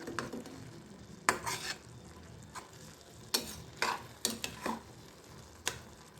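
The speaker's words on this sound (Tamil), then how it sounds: "நல்லா எல்லாத்தையும் எப்பயும் போல் நம்ம சைட்லேருந்து ஸ்க்ரேப் பண்ணி எடுத்துக்கலாம்." A utensil scrapes sautéed carrot and beetroot halwa off the sides of a pan in repeated short, sharp strokes over a soft background sizzle.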